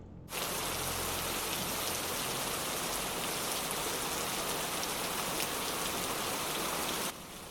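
Steady rain in the Roblox game Midnight Station falls in a constant soft hiss of drops, starting abruptly and stopping just as suddenly, with no voices.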